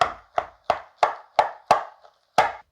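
Cooked tapioca (kappa) being mashed for a tapioca and clam biryani: a steady series of eight sharp, close knocks of a utensil striking the pot, evenly spaced with one short pause, no talking.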